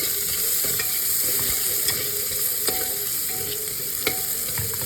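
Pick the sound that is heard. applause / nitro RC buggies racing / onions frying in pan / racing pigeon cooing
onions frying in pan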